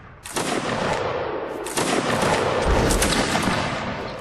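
A volley of gunfire in the Mount & Blade video game: a burst of massed shots cracks out, then a second, louder wave of shooting crackles on in a dense, rolling clatter.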